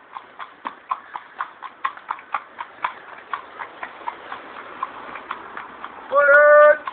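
A horse's hooves clip-clop at an even walking pace across ground in a scrapyard, crisp and close, followed at the end by a short burst of a tonal vocal or engine-like sound.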